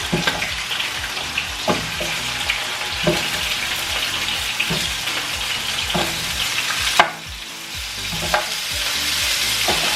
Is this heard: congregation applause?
no